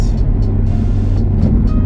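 Steady loud drone of a 1996 Toyota Celica GT4 engine heard from inside while driving, a continuous low rumble with no talking.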